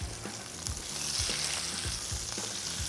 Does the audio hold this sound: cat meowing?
no